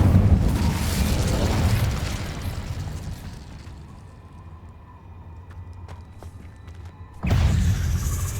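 A loud roaring burst of the Incendio fire spell in Hogwarts Legacy, sustained for a few seconds before fading into a quieter lull, then a second powerful blast erupts near the end.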